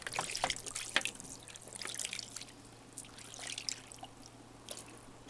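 Water splashes and trickles over rocks as they are wetted, with a few sharper drips and spatters in an irregular rhythm, fairly quiet and close, with no talking.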